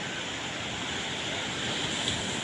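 Sea waves wash on the shore in a constant hissing roar, mixed with wind buffeting the microphone and no speech.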